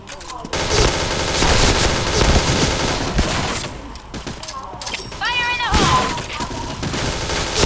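Gunfire in the shooter game Point Blank, with dense, loud bursts of automatic fire and shots running almost continuously, over music and sound effects, while players shout and talk over it.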